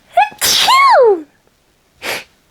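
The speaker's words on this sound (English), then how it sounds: "I just sneeze, hold up." A single loud, close sneeze with a sharp intake and burst, followed by a short breathy sound a moment later.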